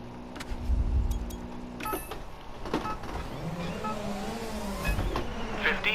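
Rally car driven over dirt in the WRC 9 video game, with a steady engine drone and shifting whines, gravel rumble and occasional thumps over bumps, loud and continuous throughout.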